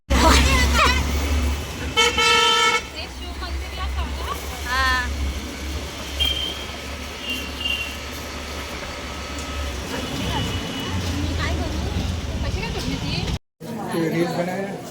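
Busy Mumbai street traffic heard from a moving auto rickshaw: a constant engine rumble with several short car horn toots and honks, while people talk loudly over the noise.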